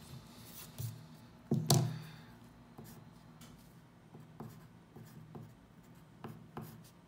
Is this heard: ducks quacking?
no